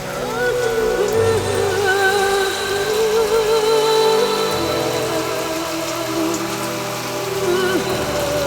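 Heavy rain pours steadily in a Tamil film scene, a loud continuous wash of drops with wavering musical tones and a low rumble layered over it.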